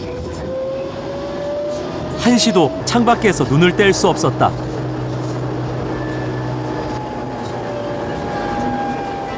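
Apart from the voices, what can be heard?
tram riding through city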